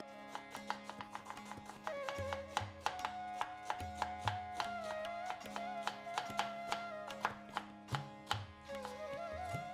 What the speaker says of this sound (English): I'm just going to thinly slice them before I start cooking